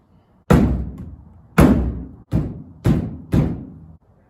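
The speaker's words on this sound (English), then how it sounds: "I can't get the door open." A stuck door on a 1964 MGB being forced open makes five heavy, close thuds, spaced irregularly, each a hard metallic bang with a short ringing decay.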